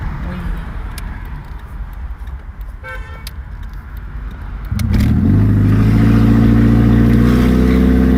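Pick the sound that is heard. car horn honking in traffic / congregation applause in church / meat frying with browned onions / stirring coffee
car horn honking in traffic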